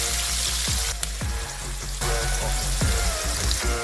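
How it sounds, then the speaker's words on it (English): Chopped onions fry in oil over medium heat, giving a continuous close sizzle, with a few soft scraping stirs and clinks in a pot being cooked for jollof rice. "We want it to release its flavors into the oil and we're frying on medium heat."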